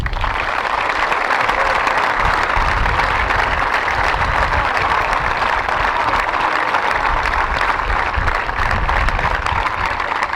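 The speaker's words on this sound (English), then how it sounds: "giving our amazing staff and parents a warm round of applause to show our appreciation" Sustained, dense applause from a large audience at a boys' school prize giving and valedictory ceremony, steady and loud throughout with no pauses.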